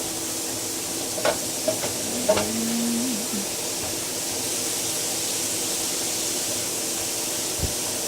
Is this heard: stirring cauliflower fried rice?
yes